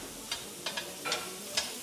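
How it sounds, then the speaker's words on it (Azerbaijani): Meat browning in butter in a frying pan at a restaurant, a faint sizzle broken by several short, crisp spits and crackles spread across the moment. "gördüyünüz kimi tavada bizim ətimiz qızarır"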